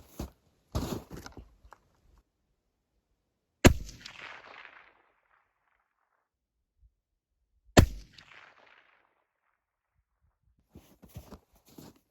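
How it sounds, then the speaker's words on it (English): A hunting rifle being sighted in outdoors in Alaska: two loud, sharp shots about four seconds apart, each trailing off in a short echoing decay, with faint rustling and handling noise at the start and end. "Got the rifle sighted in"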